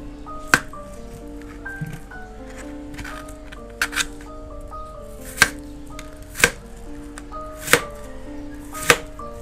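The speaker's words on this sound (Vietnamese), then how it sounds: "Rồi bây giờ mình cắt cái củ sắn" Knife chopping jicama root on a cutting board while preparing a stuffed chicken dish, sharp isolated cuts landing at an irregular pace over soft background music.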